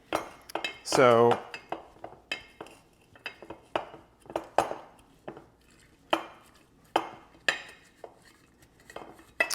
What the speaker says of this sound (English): Take my muddler, and you're pressing into the sugar because the sugar is going to become your abrasive.